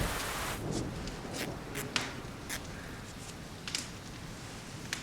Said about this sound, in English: It was raining very hard.